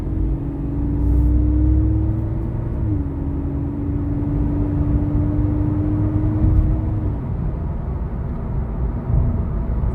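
A 2013 Scion FR-S 2.4L coupe engine hums and rises in pitch as the car picks up speed, steady road rumble underneath, no talking.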